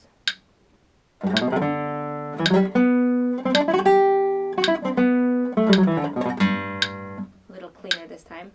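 Bowed string instrument playing quick bursts of five notes, melodic runs repeated with short pauses, close and clear, with a brief breath or voice sound at the start.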